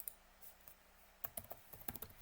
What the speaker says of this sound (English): Keyboard is really annoying.